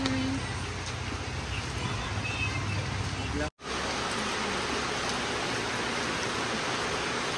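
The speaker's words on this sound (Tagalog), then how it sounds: "Walang tigil na ang ulan." Continuous rain pours down in a steady hiss, cut by one brief dropout midway, with faint voices mixed in under the downpour.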